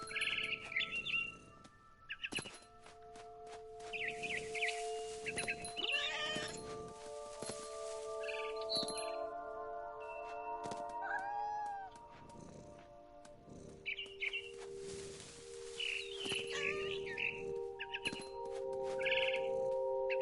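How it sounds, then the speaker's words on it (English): In the video game What Remains of Edith Finch, a barn swallow's bright, repeated chirps and tweets play over a steady musical backdrop, with occasional cat meows mixed in; the calls come in short bursts throughout. "Then I heard chirping outside my window. It was a barn swallow going back to her nest."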